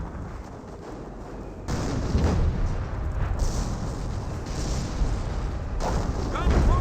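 A half-track fires away during a Company of Heroes battle, with dense booming shots and rumbling explosions over a constant roar of combat, growing louder partway through and continuing without pause.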